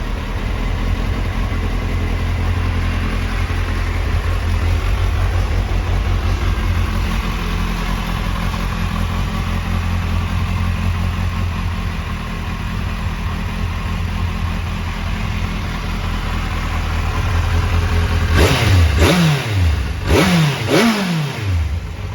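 A 1964 Kawasaki Z800 motorcycle runs with a steady, loud engine drone near the microphone, then gives several sharp revs toward the end.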